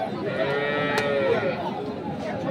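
A dairy cow with a three-day-old calf moos in a long, drawn-out call close by at a cattle market, with faint background voices and outdoor noise.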